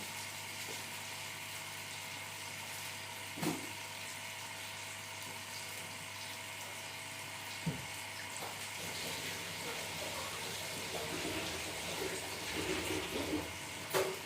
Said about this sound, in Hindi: धनिया मैं ले आई हूँ, इसको मैं धो के थोड़ा सा काट लूँ